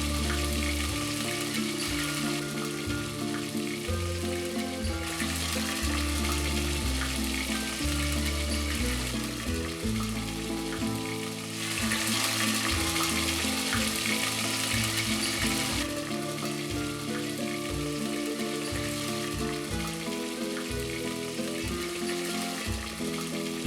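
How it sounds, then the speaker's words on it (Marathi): Cashew paste gravy for egg masala fries and sizzles steadily in a pan, a continuous hiss running beneath louder background music throughout. "यानंतर यात काजूची पेस्ट घाला व ही ग्रेव्ही अशीच भाजत रहा"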